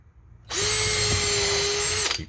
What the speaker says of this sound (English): I just go ahead and drill a couple holes.